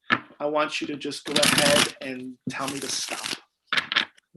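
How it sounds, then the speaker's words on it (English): Cards are shuffled in quick riffling bursts, close by, alternating with a person talking. "I'm going to start mixing the cards together"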